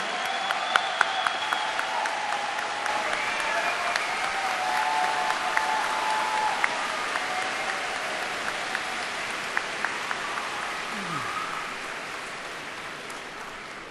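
A large audience at the 2007 WCSF opening ceremony claps steadily to welcome Dr. Hyunjin Moon. The sustained, dense applause carries through the whole stretch, with a faint voice and a few sharper claps rising above it.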